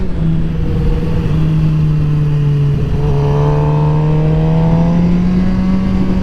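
Suzuki GSX-R750 sport motorcycle ridden on the road while breaking in new Q3 Plus tires: a loud, continuous engine drone held at a steady pitch, rising slightly midway, with no talk.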